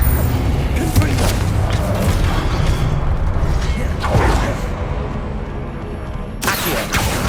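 Hogwarts Legacy combat: the Confringo blasting spell lets out booming, whooshing bursts, three loud surges over a dense, continuous bed of game effects and music.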